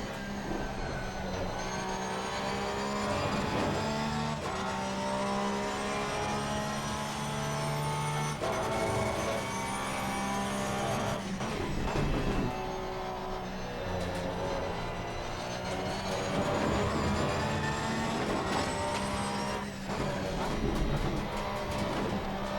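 A Porsche 911 GT3 R race car lapping Donington Park in the Assetto Corsa Competizione racing game, its engine droning steadily and loudly throughout, rising and falling through gear changes with no one talking.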